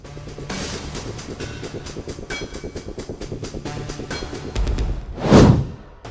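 A train rolls steadily along the tracks with rhythmic clacking and rumble, swelling into a loud rushing pass near the end.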